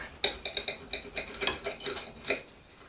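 A knife crunching through a crusty baguette loaded with pastrami, pork loin, cheese and wedges, a quick series of about a dozen crisp cracking crunches in an irregular rhythm, close and alone.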